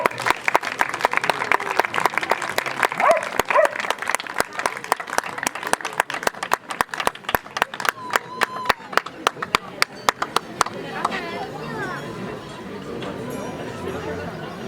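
Audience applause after a slam poetry performance: dense, steady clapping from a crowd, with sharp individual claps standing out, gradually thinning and fading toward the end.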